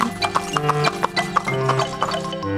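Horses' hooves clip-clop in a quick, even rhythm at close range in an animated children's English program, with a brief whinny mixed in.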